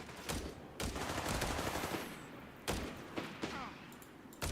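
An MG42 machine gun in a Company of Heroes 3 battle lets off several sharp bursts of rattling automatic fire, loud and punchy, separated by brief lulls with scattered distant shots.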